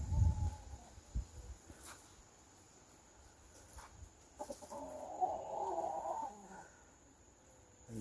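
Chickens cluck softly at a distance in a farmyard while fresh water is given to them, with scattered low clucks over a quiet background and a faint steady insect hum.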